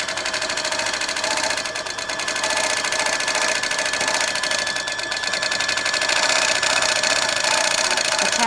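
A Tin Lizzie long-arm quilting machine stitching in its Lizzie stitch mode, a fast, even mechanical chatter of needle strokes, close and steady throughout with a slight rise in intensity near the end.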